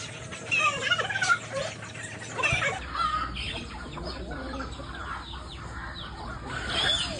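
A chicken clucks and squawks in agitated bursts as it is grabbed and caught by hand, close and moderately loud over outdoor farmyard background noise, with no talking.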